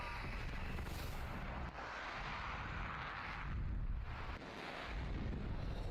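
A deep, rumbling energy cannon blast from the anime One Punch Man roars out with a long rushing, explosive wash that swells and fades over several seconds, loud and dense.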